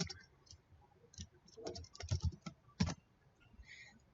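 Keys on a computer keyboard clatter in short irregular bursts with pauses between, close and crisp, with a few louder presses near the end and no talking.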